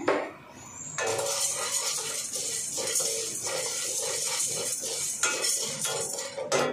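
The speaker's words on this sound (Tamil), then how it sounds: "இப்போ இதில் வந்து நான் 1 கப்பு வந்து கடலைப்பருப்பு சேர்த்துருக்கேன்." Chana dal roasting in a heavy iron kadai rattles and scrapes steadily as a metal spoon stirs it, with loud, continuous clattering of lentils close by.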